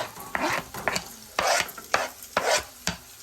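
Chopped green chilies go into a fish curry pan and are stirred in, giving a rhythmic series of about six scraping, sizzling strokes of a spoon against the pan, fairly close and loud, with no voices.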